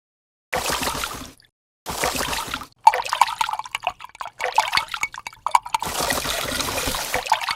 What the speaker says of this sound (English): I'll prepare the water for the plants. I'll mix all these fertilizer powders together.